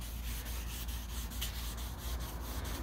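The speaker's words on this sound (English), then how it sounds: "do not sand a long time without checking your work" Steady back-and-forth rubbing of wet sandpaper on automotive clear coat with the 3M Sand & Polish System, a continuous close, even scrubbing texture with faint rhythmic strokes and no talk.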